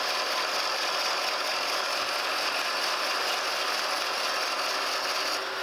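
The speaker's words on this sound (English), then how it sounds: "This horizontal mill, we got plenty of power." A horizontal milling machine takes a heavy cut on a 9-inch straight edge, spindle at 250 RPM, giving a steady, loud, dense mechanical grinding and chattering that runs unbroken and close throughout with no talk.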